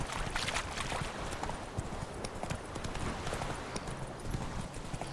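Hooves of the horse Roach clip-clopping in The Witcher 3 video game, a steady stream of close hoofbeats over a busy background of game ambience.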